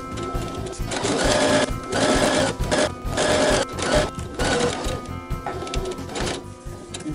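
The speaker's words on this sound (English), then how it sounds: "We're going to begin sewing on the dashed line on both sides, and we want to back tack a full inch." A sewing machine stitches a tote bag seam along a dashed line, back tacking at the ends. Its motor whirs in several loud, close bursts separated by brief pauses, with no talking.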